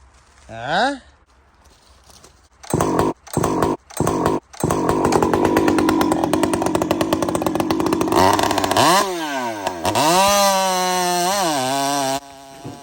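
A chainsaw fitted with a replacement muffler idles, then is blipped in short bursts before running at sustained high revs, its pitch rising and falling as the throttle is worked; a voice speaks near the start.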